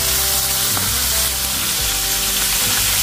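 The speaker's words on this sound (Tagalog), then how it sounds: "iprito muna natin" Fish such as bangus frying in a pan of hot cooking oil, a loud, dense, continuous sizzle and crackle held close throughout with no voices.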